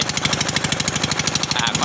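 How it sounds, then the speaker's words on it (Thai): A Chinese 13 hp boat engine revs while pushing through thick water hyacinth, a loud, close, rapid chugging with evenly spaced pulses that hold steady throughout. "เร่งเร่งเครื่องเบาๆดันไปช้าๆเรื่อยๆนะครับ"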